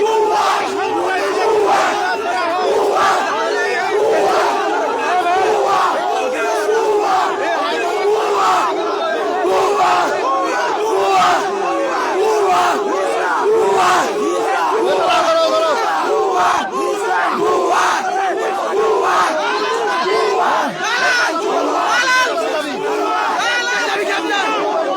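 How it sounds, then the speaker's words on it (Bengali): Protest crowd at Karwan Bazar chanting "bhuya bhuya" (fake, fake) slogans over extortion, a dense, continuous roar of many voices shouting in rhythmic bursts, loud and close throughout. "দেখে ভুয়া ভুয়া স্লোগান দিচ্ছে"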